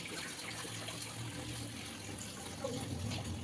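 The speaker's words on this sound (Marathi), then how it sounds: "तर काही बाळाला आता गरम गरम पाणी टाकू आपण." Hot water pours steadily into a container for a baby's bath, a continuous splashing rush that runs alone at moderate level throughout.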